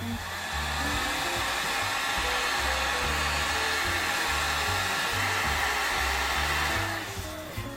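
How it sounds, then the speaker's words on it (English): A heat gun blows steadily on a cut foam prop knob, a loud close whooshing hum that runs unbroken for about six seconds before shutting off. "I got to hit it with a heat gun"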